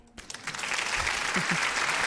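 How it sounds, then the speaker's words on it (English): A studio audience applauds comedian Jordan Yates, a steady wash of clapping that swells in after a brief quiet start and holds evenly, with faint voices beneath. "let everybody get Jordan an applause"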